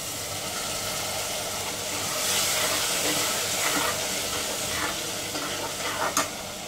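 Water poured into a pan of frying spice masala, red chilli powder among it, for a black-eyed pea curry: a loud, continuous close sizzle and hiss with steam and stirring scrapes, swelling midway, no speech.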